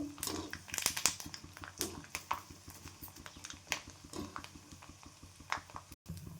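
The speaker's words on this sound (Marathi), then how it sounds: "आता थोडे थोडे आपण डिंक तळून घेऊ" Edible gum (dink) frying in hot ghee makes irregular crackling, popping bursts and sizzling patter, loud and close, with brief quieter stretches between the pops.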